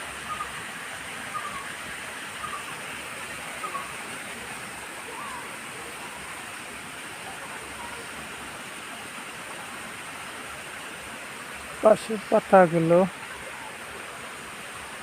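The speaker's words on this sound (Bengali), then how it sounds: "ঝর্ণা প্রবাহিত হচ্ছে।" A waterfall flows through a dense bamboo forest, giving a steady, even rushing wash of water that fills the whole stretch, with a brief burst of close speech near the end.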